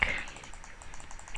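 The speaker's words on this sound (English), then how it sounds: "You can pretty hear me spamming the click button because my mic." Mouse button clicked rapidly while playing Minecraft 1.8, a quick run of light clicks picked up close by the microphone, with faint speech-like sound at the start.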